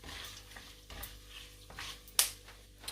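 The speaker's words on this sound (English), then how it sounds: "I'm just going to give that a quick fry around." Spiced curry paste fries over minimum heat for beef curry, a soft steady sizzle with scraping stirs and one sharp clink of the utensil against the pan near the end.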